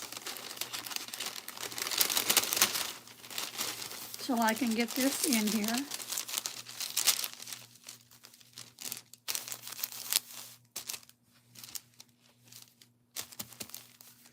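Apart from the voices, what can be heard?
parchment paper crinkling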